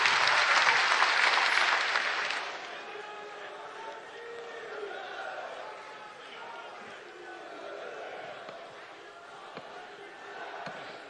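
A large crowd at a public rally for Prime Minister Narendra Modi in Jerenga Pathar, Assam, bursts into loud, dense applause that peaks in the first two seconds, then thins into a sustained murmur with scattered clapping.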